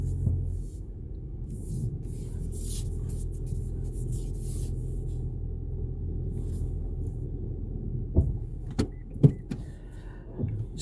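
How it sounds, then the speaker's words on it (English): A Toyota car reversing manually into a parking bay gives a steady low engine rumble and hum throughout, with a few sharp clicks and knocks near the end; no one speaks. "reverse into a parking bay manually, the good old-fashioned way"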